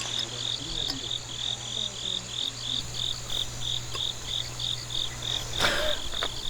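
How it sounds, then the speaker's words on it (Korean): Crickets chirp in a steady, evenly spaced pulsing rhythm, close and clear over a low constant hum, with a faint thump near the end. "귀뚜라미가 이제 합창하는 그림만되는 거야?"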